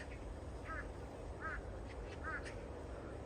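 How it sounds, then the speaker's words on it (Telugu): A few hoarse, nasal calls from large crows on a farm in Korea, three or four short harsh caws spaced apart over a steady background hum. "అరుస్తున్నాయండి సౌండ్ కొంచెము డిఫరెంట్గా ఉంటుంది మన దగ్గర కాకులు వచ్చిన దానికంటే"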